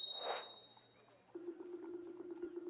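A bell pressed in the stairwell in the video game Trash Goblin gives a single bright ding near the start that rings out briefly, followed by a steady low hum of game ambience.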